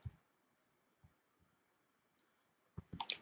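Computer mouse clicks in a quiet room: a few sharp, faint isolated clicks spaced out, then a brief cluster of quick clicks and taps at the end.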